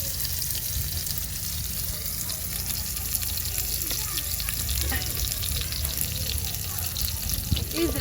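Onions fry in a cooking pot in an African village kitchen with a dense, steady sizzle and crackle, close and continuous for about eight seconds, with faint stirring and a voice now and then in the background.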